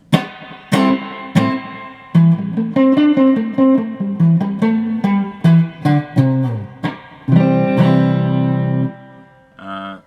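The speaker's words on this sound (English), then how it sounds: "Okay, add a bit of delay" Electric guitar played through spring reverb with added delay: a run of plucked notes and chords with echoing repeats and a reverberant tail, loud and clear with no talking.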